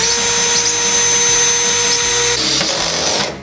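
A power drill drives long screws through a window frame into the inner frame, a steady loud whirring motor that runs continuously for about three seconds before cutting off at the end.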